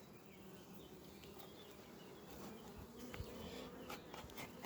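Honeybees hum at an open hive during a varroa treatment, a dense, steady buzz that fills the whole stretch. Close wingbeats flick past now and then, and the swarm grows slightly louder toward the end.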